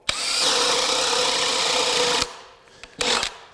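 A DeWalt DCD999 cordless drill bores through wood with a bit, a loud steady whine for about two seconds, then stops, followed by a quick short burst.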